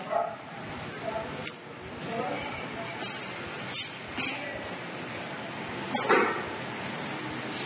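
A dog barks and yips in a few short bursts during a police check with a dog squad in Karwar, Karnataka, over noisy outdoor background, with people talking.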